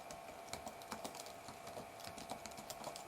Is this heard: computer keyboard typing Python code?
yes